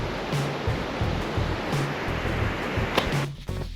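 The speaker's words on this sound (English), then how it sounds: "I love this wide and wild section of the river." The Yellowstone River rushes steadily through a wide, wild section, a dense broadband roar of moving water that holds constant and close throughout.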